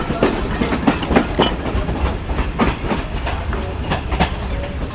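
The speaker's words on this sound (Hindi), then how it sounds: "ये देखें जी, मेन लाइन छोड़ दी है ट्रेन ने" Shalimar Express train leaving the main line onto a loop line near Saija station, heard from aboard as a steady rolling rumble with regular clickety-clack wheel beats over rail joints, close and continuous, with no talking.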